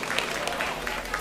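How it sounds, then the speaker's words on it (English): Audience applause after a 3lb robot combat match, steady patter of hand claps with faint crowd noise, moderately loud and continuous for a brief moment. "Round of applause."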